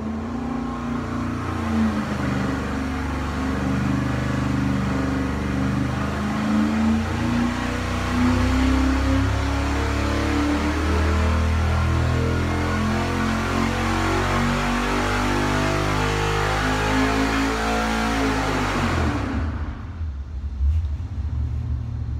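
A junkyard LS V8 engine with indexed spark plugs runs steadily at a loud, close idle with a deep rumble and slight pitch shifts, continuing for about nineteen seconds before cutting off abruptly into near silence.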